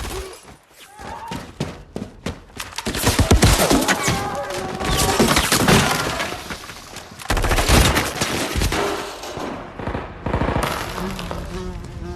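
Intense movie firefight with rapid automatic gunfire and scattered single shots, close and loud, mixed with crashing and breaking debris, continuous across the scene.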